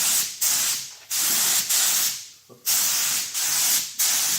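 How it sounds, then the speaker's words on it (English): Aerosol spray paint hisses in short bursts as a light dusting coat goes onto a bumper cover, five or six close, even sprays separated by brief pauses. "The first coat is going to be a real light dusting."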